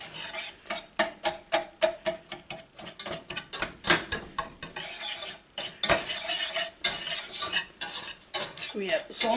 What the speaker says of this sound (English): cocoa powder, vanilla, give this a good mix.